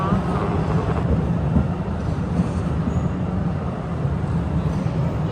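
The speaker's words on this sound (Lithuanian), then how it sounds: "O, koks ilgas traukinys." A long train rolls past in a steady, loud, continuous rumble and rattle of wagons that barely varies, heard from nearby without any clear talk.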